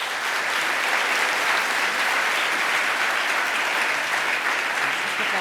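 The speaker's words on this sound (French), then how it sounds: "On vous écoute avec attention et on vous applaudit" An audience at an evening lecture on black holes claps steadily, a dense, even wash of many hands sustained at full loudness throughout without letting up.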